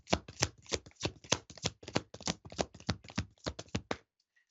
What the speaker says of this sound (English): Shuffling my cards here.